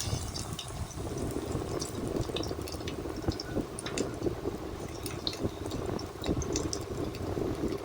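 Potatoes frying in tempered spices in a pan for Bengali shukto, a steady close bubbling crackle with dense popping and spitting throughout, no voices.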